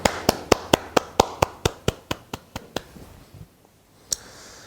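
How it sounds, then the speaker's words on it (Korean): Congregation at an Easter Sunday church service clapping in unison in praise: about a dozen crisp, evenly spaced claps that slow and fade, then one final clap after a short pause. "우리 주님 앞에 영광과 존귀의 박수 올려드리도록 하겠습니다."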